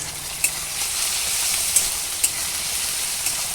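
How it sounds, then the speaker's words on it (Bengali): Washed dried fish frying with green chillies and garlic in a pan, a steady bright hiss of sizzling oil with a few faint crackles and pops, close and continuous with no voices. "দিয়ে দেবো কাঁচা লঙ্কা আর ধুয়ে রাখা শুকনা মাছ। তো দিয়ে আমি ভালো করে এখন ভেজে নেব।"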